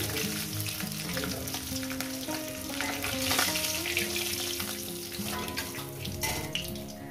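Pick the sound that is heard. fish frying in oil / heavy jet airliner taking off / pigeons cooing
fish frying in oil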